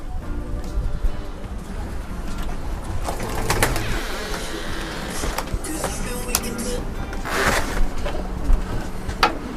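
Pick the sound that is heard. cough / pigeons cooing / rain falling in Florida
pigeons cooing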